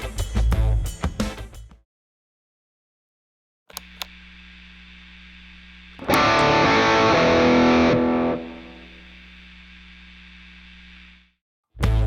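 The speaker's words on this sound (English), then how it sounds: "The chosen pedal for the round is the MOSKY Brown Distortion" Electric guitar played through a MOSKY Brown Distortion pedal: a sustained heavily distorted chord, a thicker louder burst, then a long ringing tail fading to silence.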